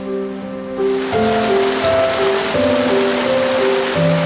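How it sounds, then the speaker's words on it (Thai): Steady rain hisses over the rushing flow of a nearby stream at a tent campsite, a constant wash of noise with soft musical tones drifting faintly underneath. "มีเสียงของสายฝน และลำธารที่ดังก้องกลางวันคอยเป็นเพื่อนผมในยามค่ำคืนนี้"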